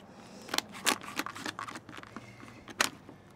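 Kitchen scissors snipping through a cooked lobster shell, a handful of crisp, quiet cracking snips at uneven intervals, close.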